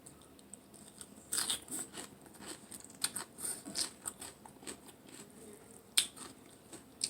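Crunchy vegetables bitten and chewed alongside papaya salad, giving several close, sharp crackling crunches in irregular bursts, with quieter mouth sounds between them.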